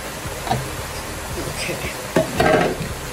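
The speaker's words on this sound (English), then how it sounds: "I'm going to saute these vegetables in here." Celery and onion sauté in a pan with green onion, a low sizzle with a few stirring scrapes and clinks, louder toward the end, while someone talks.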